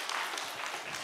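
A brief burst of soft crowd applause in a church seminar hall, an even wash of many clapping hands heard for about a second.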